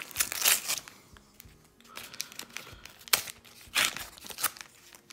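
Plastic blister packaging around Metazoo Wilderness trading cards is torn and crinkled open by hand, with several loud, close bursts of crackling and ripping separated by short pauses.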